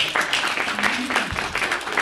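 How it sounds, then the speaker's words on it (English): A short burst of audience applause at a Dallas cultural plan community meeting, dense clapping from a crowd filling the two seconds, fairly close and loud. "I think everyone just needs to see you and applaud you."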